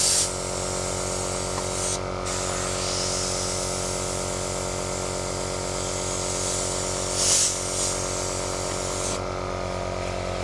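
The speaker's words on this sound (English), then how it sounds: "Now we're going to see how it works mechanically by turning on the compressor." A 220-volt Ophir airbrush compressor hums steadily at 9 psi while an airbrush sprays paint, a constant close whirring drone with brief hissing bursts from the spray.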